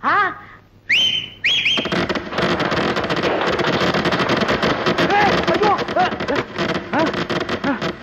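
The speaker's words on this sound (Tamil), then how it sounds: "என்னடா அது விசில் வேட்டு சத்தமா?" A whistling firecracker screeches in a short rising whine, then another, followed by a long roar of crackling, whistling bursts and outdoor noise.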